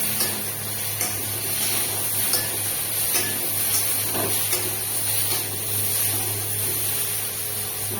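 Pointed gourd and shrimp fry in a small amount of oil with salt and turmeric, giving a steady, even sizzle and hiss close by with a few faint clinks, and no talking.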